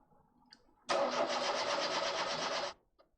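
A car engine cranks briefly and catches, settling into a steady mid-pitched running drone for about two seconds before cutting off, close and loud against a quiet garage background.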